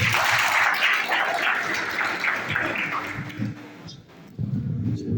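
Broad, steady applause from an audience at a boxing federation gathering in Kastamonu fills the clip, fading slightly toward the end before a brief swell of low noise.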